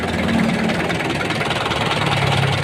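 An Isuzu 4JJ1 diesel engine runs steadily with its radiator cap open, an overheating engine giving a continuous, fairly loud rumbling idle with a faint knocking texture and no talk.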